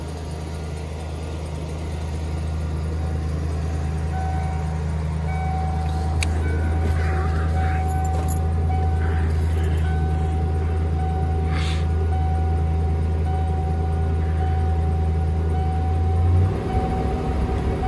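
A 1992 Ford 351 Windsor carbureted V8 idles steadily after a cold start on a chilly North Idaho morning, a deep continuous rumble that runs evenly and then cuts out abruptly near the end.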